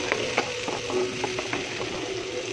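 Oil sizzling in a pan as ingredients for spaghetti are sautéed, a steady close frying hiss with faint scraping and stirring clicks, no voices.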